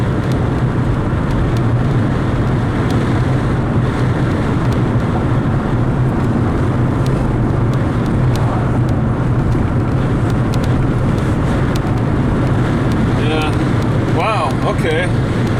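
Strong wind roars and buffets steadily around a moving car on a drive to Raton, New Mexico, a dense, loud rush with low rumble lasting throughout, with voices talking at points over it.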